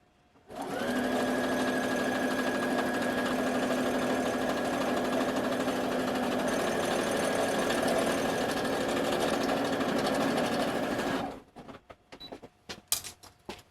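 A sewing machine runs a continuous top stitch around the hem of an outer robe for a Return of the Jedi Royal Guard costume, stitching straight over the pins. It whirs steadily and close for about ten seconds, then stops, leaving a few small clicks.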